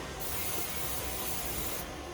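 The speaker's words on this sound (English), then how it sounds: "we're gonna put some spray in our bowl" Cooking oil spray hissing into a bowl, one short steady burst of about a second and a half, close and soft, with no talk over it.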